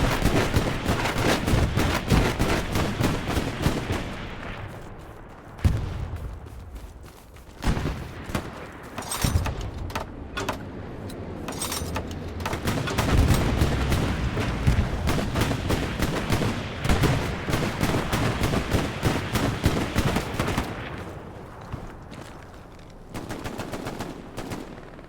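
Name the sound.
tank gunfire from a video game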